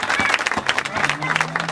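An audience at a school graduation ceremony claps in a brief burst of scattered, uneven handclaps, fairly faint and heard from within the room.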